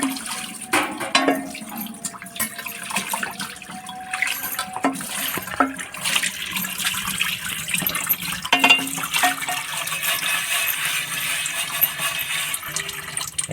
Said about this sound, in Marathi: नारळाच्या किशीनच हे धुवायचं स्वच्छ बघा